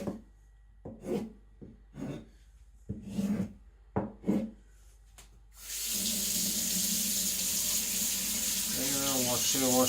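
A gyuto knife rinsed under a running kitchen tap: a few brief scrapes and knocks, then a steady, close rush of water that keeps flowing to the end.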